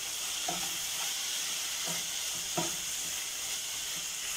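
Tomato rice masala with turmeric sizzles softly in a pan under a constant hiss, and a spoon stirs it with a few faint, scattered scraping taps.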